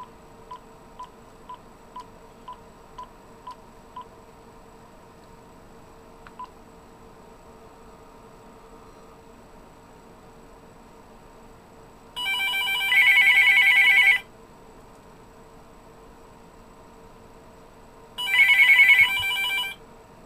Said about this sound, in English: I'm going to call this phone